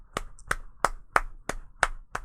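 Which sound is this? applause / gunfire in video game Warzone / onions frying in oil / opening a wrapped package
applause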